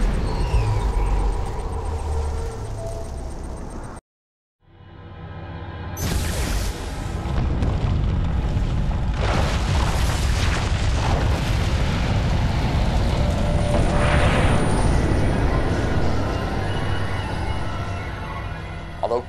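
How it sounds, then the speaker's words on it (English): Large explosion in the Command and Conquer Tiberium Wars video game, a deep roaring blast rising after a brief silence and rumbling on with crackling debris, loud and sustained. "The explosion also detonated a liquid Tiberium deposit hidden beneath the temple itself"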